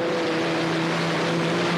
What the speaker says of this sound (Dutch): Je kunt goed horen dat die motor absoluut niet opgeeft.